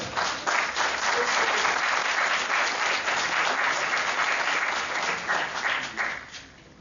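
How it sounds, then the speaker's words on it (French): Studio audience at a televised Congolese political debate in Johannesburg applauds and cheers a guest, a dense, steady crowd clapping that holds loud and full before fading out near the end. "Si on peut avoir des acclamations pour lui, s'il vous plaît."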